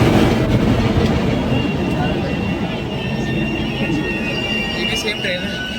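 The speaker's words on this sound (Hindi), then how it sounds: "तो ऑन टाइम एट 1:30 हमारी जो ट्रेन है वो चल चुकी है, डिपार्ट कर चुकी है अपने गजरौला जंक्शन से।" A passenger train bound for Dehradun rumbles steadily as it pulls out of Gajraula Junction, with a continuous low clatter and hum heard from onboard, someone talking over it.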